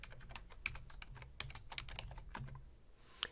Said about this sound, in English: Let's type in Bing.